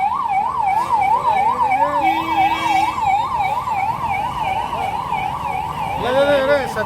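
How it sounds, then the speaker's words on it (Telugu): A loud ambulance siren wails in a steady, fast up-and-down pattern close by, with road traffic rumbling beneath it and a second swooping siren tone rising near the end. "అంబులెన్స్కి దారి ఇవ్వండి."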